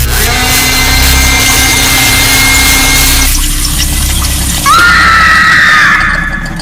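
A loud, shrill scream with strained, wavering pitch, sustained for several seconds before breaking into a higher, sharper cry near the end.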